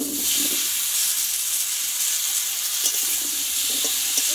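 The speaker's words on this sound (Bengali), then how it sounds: "দেখো এই তেলে এখানে কেটে ধুয়ে রাখা আমি চাল কুমড়োটা একটু কষে নেব।" Chopped, washed ash gourd sautéing in a pan of oil for an old-style fish-roe curry, a dense steady sizzle close up with faint stirring scrapes at the start and end, no voices.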